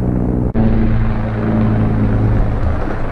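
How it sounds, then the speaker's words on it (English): A helicopter passes overhead above the Sabine River during a winter fishing trip, a loud, steady low rotor and engine rumble with a low hum that holds throughout. "Helicopter time."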